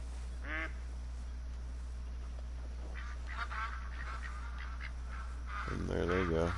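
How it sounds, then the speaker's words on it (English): Ducks quack in short bursts while flying over brushland, heard at a moderate distance against a quiet outdoor background with occasional faint rustling, a louder cluster of calls near the end. "I hear the ducks flying now."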